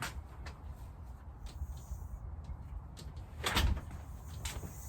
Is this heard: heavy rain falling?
no